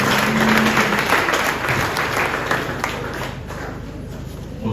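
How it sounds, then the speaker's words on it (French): A church congregation applauds loudly and steadily, a dense wash of clapping that stays strong throughout with a low hum of voices mixed in. "Applaudissez fortement pour la façon de Dieu."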